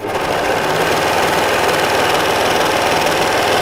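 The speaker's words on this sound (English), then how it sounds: "sew down to the end" A sewing machine runs at an even, fast whir as it stitches down a length of fabric, loud and close with a constant mechanical chatter and no talking.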